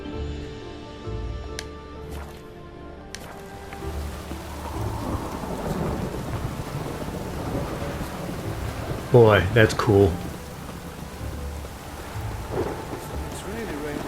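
A thunderstorm in The Witcher 3, with steady rain pattering and rolling thunder, including a louder close crack near the end, while someone talks over it now and then.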